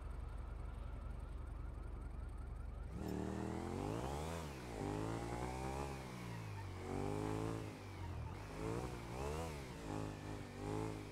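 A motorcycle in a video game revs with a turbo, its engine note rising and falling in repeated sweeps, loud and steady after a brief low hum, with no talk over it.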